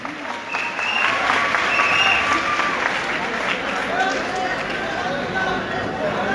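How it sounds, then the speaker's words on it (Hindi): Loud, sustained applause from an audience welcoming a guest at a coaching centre event, dense clapping with some crowd murmur and voices mixed in throughout. "सभी तालियां बजाकर स्वागत करें।"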